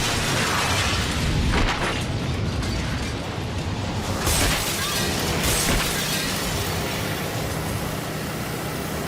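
A superheated fire extinguisher bursting inside a house, a loud violent blast followed by a sustained roaring rush of discharge and debris with shattering glass, close and powerful throughout.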